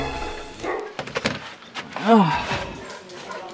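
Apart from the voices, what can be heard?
dogs barking and whimpering in greeting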